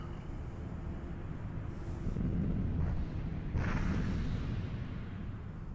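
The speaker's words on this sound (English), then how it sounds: "Big explosion." A big explosion in a Tomb Raider cutscene during the Sinking Atlantis finale comes as a deep, sustained rumbling roar. It swells and stays dense and noisy throughout, with no voices.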